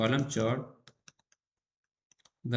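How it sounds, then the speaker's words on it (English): A few sparse, light computer keyboard clicks sound in a quiet pause while entering alt text, with a person talking just before and after. "then we will type alt text in this box"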